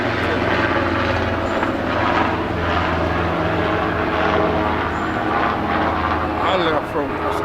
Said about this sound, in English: Let's let this plane kind of go over